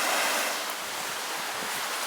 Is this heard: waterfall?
yes